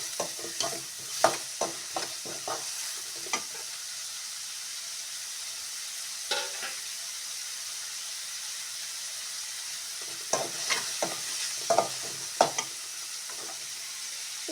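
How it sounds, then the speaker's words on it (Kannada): Onions frying in a pan, a soft steady sizzle broken by clusters of sharp spatula scrapes and knocks against the pan, close and fairly quiet. "ಸ್ವಲ್ಪ ಫ್ರೈ ಆದರೆ ಸಾಕು ಈರುಳ್ಳಿ"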